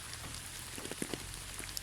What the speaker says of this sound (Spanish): por la sonoridad que tiene la lluvia